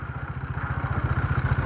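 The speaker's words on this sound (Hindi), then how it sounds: "गई रेत बेजरी वगैरह मिक्सर के अंदर।" A concrete mixer machine on a road shoulder construction site churning a load of sand and gravel, its engine chugging in a fast, even pulsing rhythm, loud and close.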